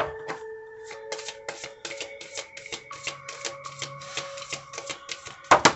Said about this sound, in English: I'm just shuffling, shuffling, shuffling, shuffling